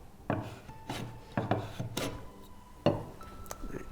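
A wood chisel rasps and scrapes across a wooden workpiece in several short, close strokes with brief pauses between them, fairly loud against a quiet room.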